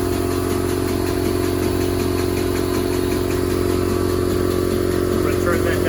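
A pump circulates cleaning solution through a heat exchanger in a maintenance cleaning system, producing a loud, steady, close mechanical drone with a fast rhythmic pulse and faint clatter, unbroken from start to finish.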